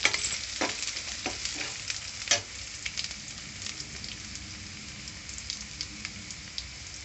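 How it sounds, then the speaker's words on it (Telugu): Slit green chillies frying over a medium flame for mutton iguru, a steady crackling sizzle with sharper pops and a few stirring scrapes near the start, alone and without talk. "చీల్చి పెట్టుకున్న పచ్చిమిరపకాయలు యాడ్ చేసుకుందాం. యాడ్ చేసుకున్నాక బాగా వేపుకుందాం."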